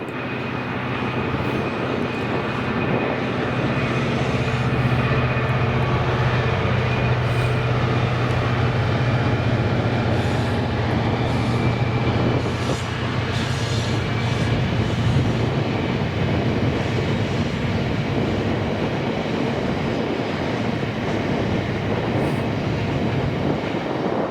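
A Class 66 diesel locomotive in Maritime livery hauls a loaded stone freight train through Scotland, its engine drone steady and loud throughout with rumbling wagons and a sustained low hum, no talk.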